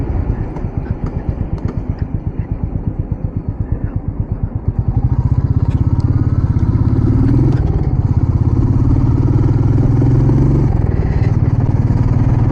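A 2023 Royal Enfield Meteor 350 single-cylinder motorcycle engine thumps loud and close, first a rhythmic idle chug, then a fuller, steadier drone as revs rise after about five seconds.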